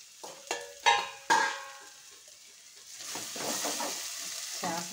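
Onions frying in a pan for a fish curry: a few sharp metallic clanks of a utensil against the pan come first, then a rising, steady sizzle of stirring and frying takes over.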